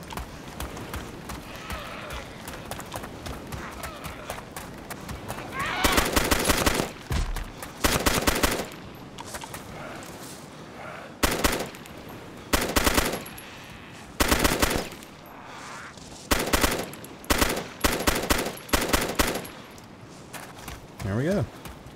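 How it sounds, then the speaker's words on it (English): Bursts of automatic gunfire in the video game Arma 2: DayZ, loud and close, fired in repeated volleys of rapid shots at zombies along a coastline, with brief pauses and a steady background bed between bursts. "eventually I'll just take them over here to the coastline and gun them all down"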